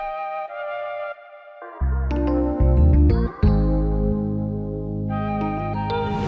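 Synth melody processed with EQ, ping pong delay, distortion and vintage reverb, layered with deep bass tones and rhythmic hits, shifting in loudness over several seconds of beat production without any speech.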